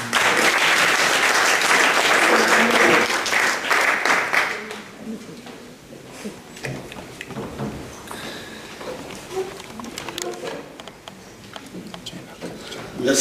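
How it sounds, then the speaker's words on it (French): Audience applause at a commemoration of Dutch resistance martyrs, loud and dense for about five seconds, then thinning into scattered claps and murmurs as the crowd settles. "Et voilà pourquoi je vous demande de l'applaudir."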